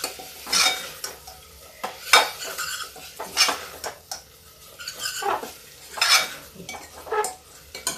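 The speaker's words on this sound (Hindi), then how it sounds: "अब इसको इसी मसाले में हम देर तक भूनेंगे" Toor dal, washed but not soaked, is stirred and roasted in a masala in a pan, with repeated scraping clinks of a spoon against the metal at an uneven rhythm over a faint sizzle, fairly close and with no talking.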